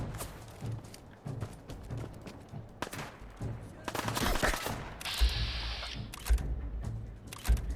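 Gunfire in the video game Fallout 4 on PS4. Scattered sharp shots crack out at irregular intervals, some in quick bursts, among other game sounds.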